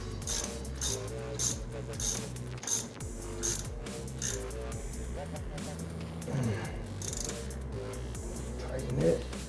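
A ratchet tightening a bolt while a water pump is fixed on a 1984 Z28, with repeated rapid clicking strokes in bursts, close and clear, and someone talking throughout.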